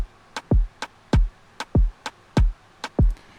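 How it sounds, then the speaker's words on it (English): Programmed Afrobeat drum pattern with deep booming kick hits and lighter snappy percussion clicks in a syncopated repeating groove, punchy and close, no voices. "So this next one is an Afro beat, and these range from about 95 to about 110."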